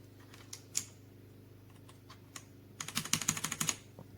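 Typing on a Redragon K556 mechanical gaming keyboard with brown tactile switches: scattered single keystrokes at first, then a quick burst of clacking keys, close and fairly quiet with no talk.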